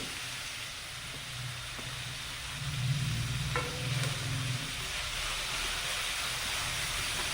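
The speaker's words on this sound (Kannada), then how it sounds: "ಇದು ಚೆನ್ನಾಗಿ ಫ್ರೈ ಆಗೋ ಥರ ಬಾಡಿಸ್ಕೋಬೇಕು" Chopped tomato hits a pan of fried garlic paste and is stirred, producing a steady close sizzle with a swell of louder frying and scraping in the middle, then settling back to a gentle hiss.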